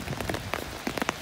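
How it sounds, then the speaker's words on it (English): Heavy rain patters on surfaces in a close, dense rush of irregular drops, loud and steady over a short stretch with no voices. "If you can hear that, it is raining even harder now."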